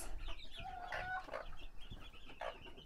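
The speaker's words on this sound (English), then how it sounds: "let's pop into the chicken coop. I have some mums with some chicken." Mother hens with chicks cluck inside a farm chicken coop, several soft throaty calls scattered over a steady background hum, fairly faint and close with no talk.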